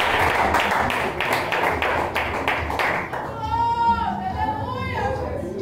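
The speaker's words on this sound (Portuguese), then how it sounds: "Vamos receber o servo de Deus com as palmas. Palmas e glorifica o nome do Senhor." A church congregation claps in welcome for a preacher, a dense run of hand claps that fades after a few seconds as a voice begins to speak over the room.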